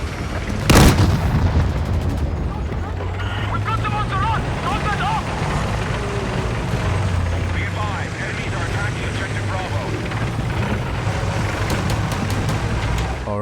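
An infantry fighting vehicle blows up in Battlefield 6 with a sharp, loud blast near the start, followed by a sustained roar of battlefield rumble, engines and scattered booms.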